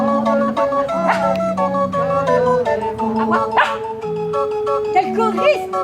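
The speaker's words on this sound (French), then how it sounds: "On peut applaudir le petit chien!" A small dog yips and howls along with a song, its barks rising over the music and singing voices.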